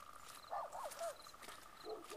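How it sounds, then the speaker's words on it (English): Frogs croak at night near Frog Lake, a series of faint, distant warbling calls in short bursts over a steady insect-like hum. "You can hear the frogs."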